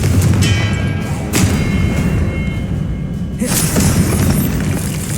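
Confringo blasting spell going off in Hogwarts Legacy, several loud booming impacts with shattering crackle, spaced a second or two apart, over a dense battle din.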